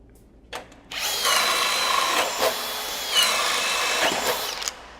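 A hammer drill runs in steady, loud bursts close by, with brief pauses between the drilling stretches and no talking.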